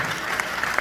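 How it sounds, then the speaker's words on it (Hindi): A spiritual talk audience on Gita teachings claps together in a brief, dense burst of applause, steady and fairly loud with a few sharper slaps standing out, no speech over it. "अपने आप को ताली बजाइए"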